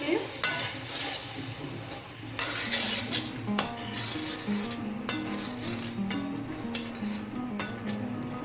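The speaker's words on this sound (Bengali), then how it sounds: "কষিয়ে নিচ্ছি।" Shredded cabbage with turmeric and chili powder sautés in a pan, sizzling steadily while a spoon stirs and clinks against the metal now and then, with no talking.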